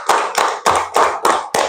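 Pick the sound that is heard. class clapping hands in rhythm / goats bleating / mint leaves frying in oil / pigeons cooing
class clapping hands in rhythm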